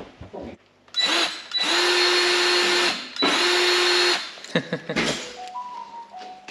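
An old cordless drill whirs in several loud, sustained bursts once its battery is clicked in, with short pauses between runs and a few clicks and rattles of handling at the end.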